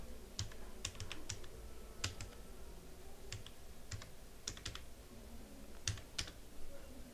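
Keys clatter on a computer keyboard in short irregular bursts of clicks, close and fairly quiet, with no talking.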